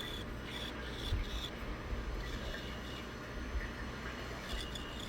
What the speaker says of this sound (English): So I'm just cutting out the rough shape on the bandsaw.